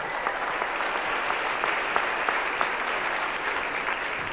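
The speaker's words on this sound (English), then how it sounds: "You should give yourself an applause." Steady applause from a banquet audience at a sports awards dinner, an even patter of many hands clapping at moderate distance, with no talk over it.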